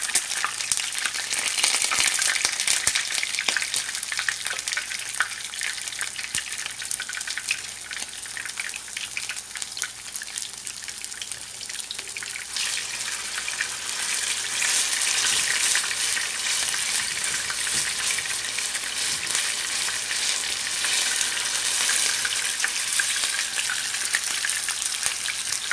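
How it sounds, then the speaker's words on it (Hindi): Kashmiri chapli kebabs fry in an oiled pan, giving a dense, loud, continuous sizzle that crackles steadily for the whole stretch, with no voices over it. "चपली कबाब तैयार हो रहे हैं।"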